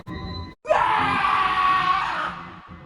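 A man lets out one long, loud scream in a dramatized Spanish horror story after a brief silence, then it fades away.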